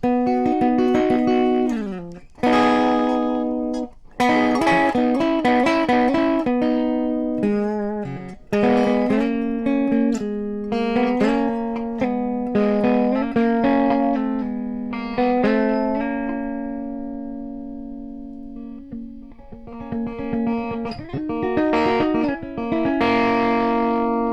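Electric guitar through a Caline CP-32 fuzz pedal at full fuzz on a clean amp channel plays chords and sustained notes, loud and gritty, some notes ringing long before the next strums.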